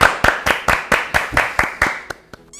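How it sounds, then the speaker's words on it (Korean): A small studio group claps in encouragement for football players awaiting the next World Cup, a steady run of about eight evenly spaced, crisp claps that breaks into a couple of stray ones at the end. "다음 월드컵을 기다리는 선수에게도 응원의 박수"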